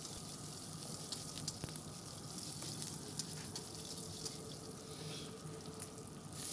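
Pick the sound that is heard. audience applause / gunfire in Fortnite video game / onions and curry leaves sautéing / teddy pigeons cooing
onions and curry leaves sautéing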